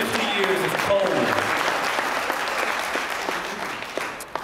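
A contest audience at a speech competition breaks into steady, sustained applause, a dense wash of many hands clapping that slowly fades toward the end.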